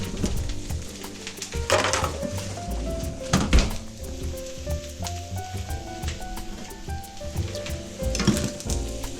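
Yakisoba noodles and cabbage sizzle in a pan, with soft frying hiss under repeated clanks and thunks of a utensil stirring and tossing against the metal.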